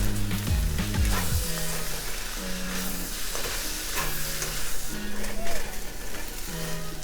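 Rice fries in a pan with sweet Indonesian soy sauce and sambal. A loud, steady sizzle is stirred and scraped throughout, with tonal music playing underneath.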